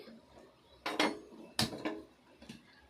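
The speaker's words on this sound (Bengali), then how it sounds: "গ্যাসে একটা কড়াই বসিয়েছি" A metal wok clanks down onto a gas stove grate, a few short knocks and scrapes ringing out in an otherwise quiet room.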